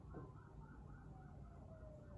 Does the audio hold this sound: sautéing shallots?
no